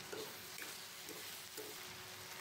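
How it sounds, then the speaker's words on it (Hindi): Spices with a pinch of asafoetida frying in a pan for biryani, giving a steady, fairly quiet sizzle with faint stirring scrapes and no talking. "अभी ज़रा सी हींग डालिए इसके अंदर और थोड़ा सा फ्राई करेंगे"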